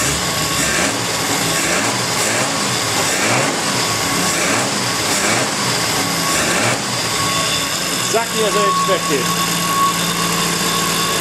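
A small WW2 six-wheel Jeep engine idles and runs steadily throughout, with someone speaking briefly over the rumble near the end.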